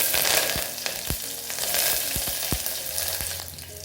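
Green chillies and whole spices, among them a bay leaf, frying in a little oil for a pulao. A steady close sizzle runs throughout, broken by scattered sharp pops and crackles, and nobody speaks.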